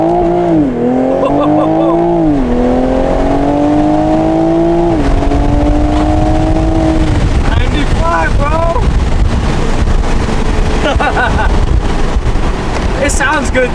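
A stock turbocharged Toyota Supra A91 CF-Edition accelerates hard, its engine note climbing through gear pulls with wind buffeting the microphone, loud and close from inside the car, then easing off as voices briefly talk.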